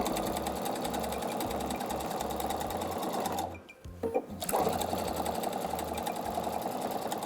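A domestic sewing machine stitches a patchwork cushion with blue triangles, its fast steady whirring running almost continuously, with a brief pause partway through before it resumes.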